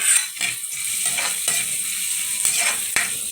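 Ginger, garlic and onion sautéing in a pan for Filipino chicken curry, giving a steady close sizzle with repeated scraping stirs and utensil knocks, no talking.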